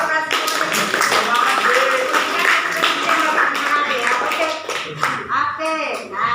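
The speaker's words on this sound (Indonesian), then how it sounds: "tepuk tangan untuk Francisco" Students clap in a classroom for a classmate, quick scattered claps mixed with lively children's voices and chatter, fairly close and loud.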